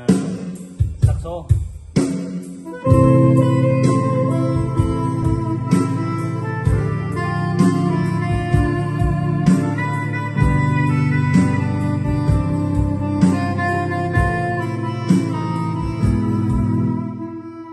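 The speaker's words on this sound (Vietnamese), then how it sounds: "Tiếng saxo rất là hay." Saxophone voice on a Yamaha Electone ELS-02C organ plays a lively melodic line over accompaniment, notes loud and close with repeated rhythmic accents throughout.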